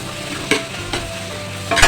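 Tomatoes and onions sizzle and crackle in a hot pan, with a few sharp scraping stirs cutting through the steady frying noise.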